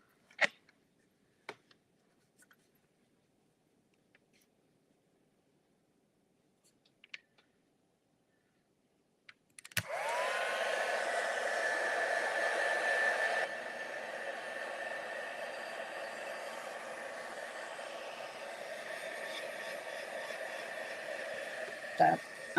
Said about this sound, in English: we'll use our heat gun